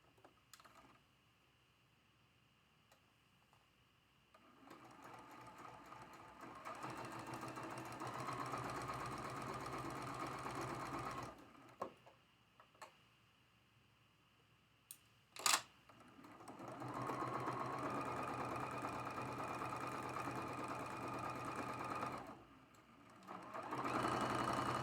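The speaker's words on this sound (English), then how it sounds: "I'm lining up this line with my presser foot, and I'm sewing 1/4 inch on both sides." A sewing machine runs close by, stitching a quarter-inch seam along a quilt block in two long steady whirring passes. A pause and a few sharp clicks separate the passes, and no one speaks.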